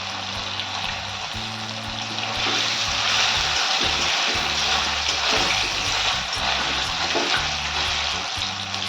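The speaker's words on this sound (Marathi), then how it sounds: "आता आपण ते तेलामध्ये फ्राय करूया" Coriander mutkule dumplings fry in hot oil in a kadai, giving a dense, steady, close bubbling sizzle that swells slightly partway through and carries on without any voices.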